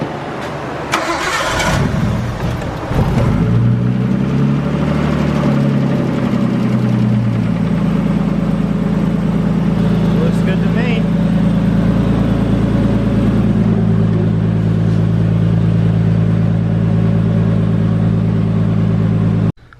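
An R32 Nissan Skyline engine cranks and catches, then settles into a steady, loud idle that rumbles on evenly for the rest of the clip.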